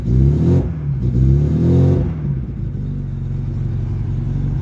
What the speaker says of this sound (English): See, I'm revving the car. You can hear the loudness.